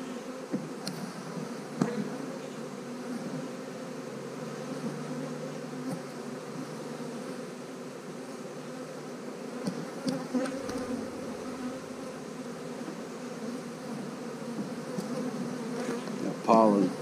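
Swarm of bees buzzing around a hive box, a dense steady drone close by for the whole stretch, with occasional handling bumps.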